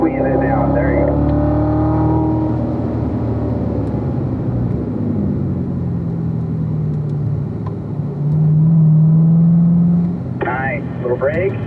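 A car accelerates hard on the Spring Mountain East Track race circuit, its engine droning steadily and swelling louder toward the end, with an instructor talking over it from inside the cabin.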